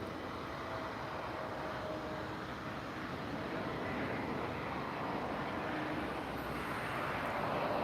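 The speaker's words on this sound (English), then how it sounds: "Indeed an Embraer, but TAP Air Portugal." A TAP Air Portugal Embraer airliner roars steadily near an airport, a broad continuous jet rumble that holds level throughout and swells slightly toward the end, with no one talking.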